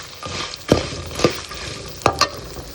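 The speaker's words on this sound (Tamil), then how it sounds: "இப்போ நாம் இதில் கரைச்சி வச்சுருக்க புளி கரைசலை இதில் சேர்த்துடலாம்." Tamarind extract is added to hot oil in a pan for Andhra-style temple puliyodharai and stirred, giving soft sizzling with several distinct scraping stir strokes over a steady frying hiss.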